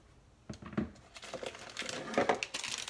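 Crinkly plastic of a zipper bag holding cooked quinoa rustles and crackles as it is folded and squeezed, in a short burst of close, irregular crumpling sounds.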